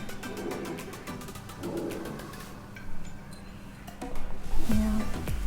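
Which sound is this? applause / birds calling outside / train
birds calling outside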